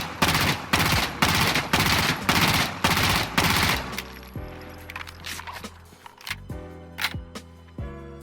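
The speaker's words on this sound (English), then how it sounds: "I'm going to shoot the MP7 one more time, full 40 rounds, but this time in a more of a burst fire." MP7 submachine gun firing in Insurgency: Sandstorm, first as loud rapid bursts in quick succession, then as shorter, sparser bursts with gaps between them, and no talking.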